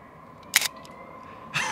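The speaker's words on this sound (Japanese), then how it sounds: "でシャッターがこんな感じです。" EDIXA Reflex vintage manual film camera shutter fired once, a crisp close mechanical snap followed by a softer second click in a quiet room.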